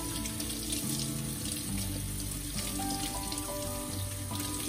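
Warm tap water runs steadily into a sink before a crocheted doily is soaked and washed, a continuous splashing rush with no talk over it.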